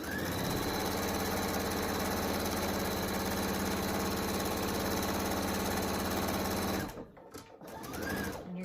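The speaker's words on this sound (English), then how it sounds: "And then go ahead and sew the rest of it up." A sewing machine stitches fabric for a flat bat wrap, running in one steady, close, whirring drone for about seven seconds before stopping abruptly, followed by faint handling noise.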